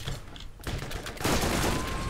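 Dense bursts of video game gunfire from Borderlands crackle and roar in a continuous loud fusillade, swelling louder in the second half.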